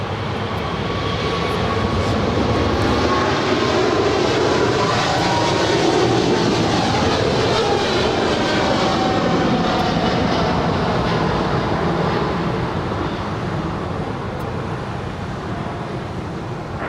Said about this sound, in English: 232 departing to Sydney on a 777 freighter